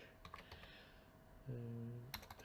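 Quiet clicking of keys as someone types on a computer keyboard, a few scattered taps followed by a short run of keystrokes, close and soft against a low background hum.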